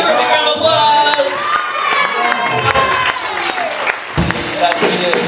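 A live audience at a Los Angeles show applauds and cheers loudly, mixed claps and whoops filling the room with some shouting voices under it.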